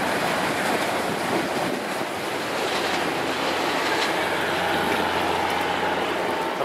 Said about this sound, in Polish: I pociąg jedzie.